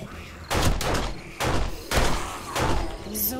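Four loud, sharp gunshot bursts in the zombie survival game 7 Days to Die, spaced roughly half a second apart, each ringing briefly with a booming low end; a faint background voice is present between shots.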